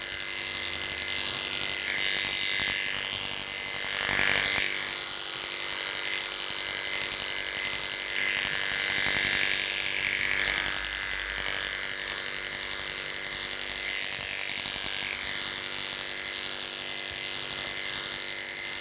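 Electric clippers buzz steadily and close up as they skim the chest and breastbone area of a Lhasa Poo dog during grooming, with a continuous hum that rises and dips slightly and no talking.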